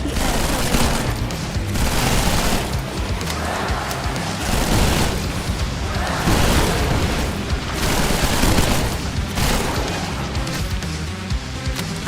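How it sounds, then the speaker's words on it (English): Dense, continuous video-game combat audio, with heavy explosions and rapid gunfire bursts booming throughout at a loud, steady level. "Loads of explosions."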